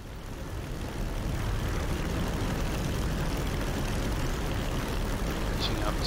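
Propeller engines of bomber aircraft in a video game give a continuous, loud, even drone that fills the whole stretch without a break.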